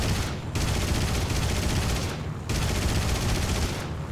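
Sustained aircraft cannon bursts in the War Thunder flight game, firing as three loud, continuous volleys split by two brief pauses, with the rapid rattle staying close and steady throughout.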